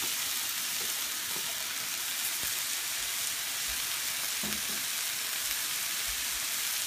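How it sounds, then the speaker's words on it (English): Bean sprouts sizzle in a pan of frying vegetable chow mein, a steady close crackling hiss with occasional soft clicks and taps from stirring, and no talking. "I'm gonna go ahead and add my bean sprouts in there."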